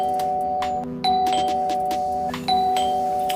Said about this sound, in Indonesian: Lalu bel berbunyi.